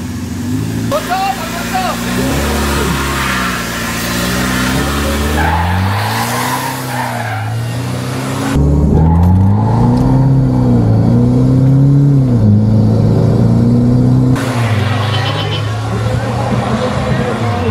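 Two diesel trucks, a lowered Nissan Terra and a stock Nissan Navara, launch hard in an offroad drag race, engines revving loudly with tire skids while people talk over the noise nearby.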